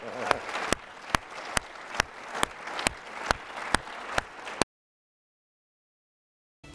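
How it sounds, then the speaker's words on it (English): An audience applauds, with dense clapping close by and sharp, regular accent beats. The applause cuts off abruptly into about two seconds of silence before a brief return at the end. "How about a round of applause for Israel's Mossad?"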